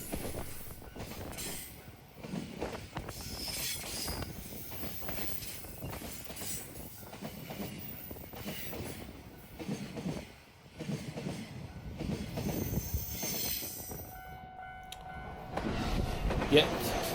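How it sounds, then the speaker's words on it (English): A Red Wing passenger train heads toward Hiroshima at Bandohara, a continuous rumble of rolling wheels and clattering cars that stays steady throughout and swells slightly near the end. "Yet another Red Wing service, again towards Hiroshima."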